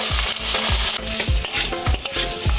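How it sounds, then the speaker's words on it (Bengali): Long-grain rice frying in a pan with whole spices, cashews, raisins and grated ginger, stirred in steady rhythmic strokes over a continuous close sizzle, with no voices. "চালটা আমি হালকা একটু ভেজে নেব"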